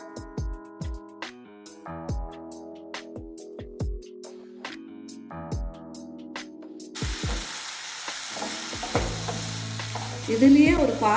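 Mudakathan keerai leaves sautéed in a pan for dosa batter, with a spatula clinking and scraping in steady strokes at first, then a louder, continuous sizzle of frying taking over close by.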